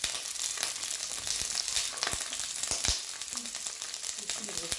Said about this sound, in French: Et je vais faire revenir mes chenilles pendant 10 minutes.